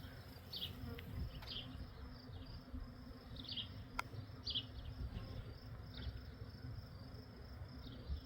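Honey bees buzz faintly around a hive, a continuous low drone with individual bees passing close at intervals and a single sharp tick midway.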